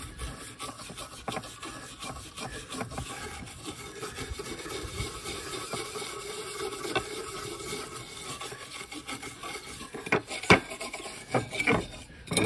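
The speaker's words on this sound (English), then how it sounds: "now I'm gonna use the wire brush" A wire brush scrubs the blade of a chipper/shredder with steady, rasping back-and-forth strokes at close range, ending in a few louder scraping bursts.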